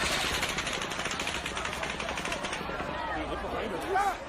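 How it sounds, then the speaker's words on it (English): Rapid bursts of gunfire from semi-automatic weapons during the October 2017 Las Vegas hotel shooting, crackling in quick repeated pulses like fireworks, distant and blurred under a dense wash of crowd noise and voices. "You could hear earlier on some of those gunshots firing off in rapid succession"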